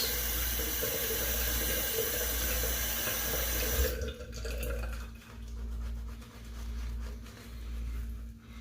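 A bathroom tap runs steadily and close by during a wet shave, a broad rushing stream of water that shuts off partway through, leaving quieter rinsing and splashing sounds.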